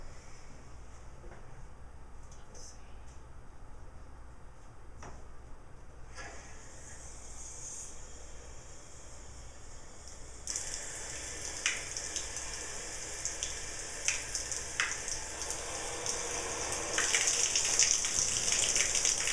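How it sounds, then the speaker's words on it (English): Water runs through a clogged, rusty shower head, a faint steady hiss that grows brighter and stronger partway through, with occasional splashes and drips. "I am going to go ahead and turn on the water"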